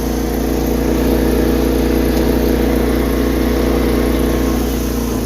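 Steady engine drone from the Honda Civic 210 car while cruising in fourth gear, a continuous low hum with road and wind noise holding level throughout, no voices.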